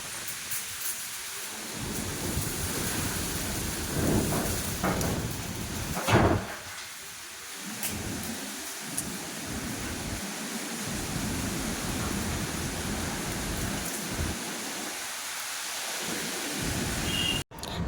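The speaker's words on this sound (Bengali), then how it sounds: "এক চোট বৃষ্টি হয়ে গেছে, আবার দেখো কি পরিমাণে ঝড় উঠেছে।" A thunderstorm roars with heavy rain pouring down steadily, wind-driven broadband wash throughout, with a sharp thunderclap near six seconds and low rumbles rolling beneath the downpour.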